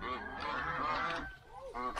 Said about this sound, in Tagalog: Ito mga gansa oh.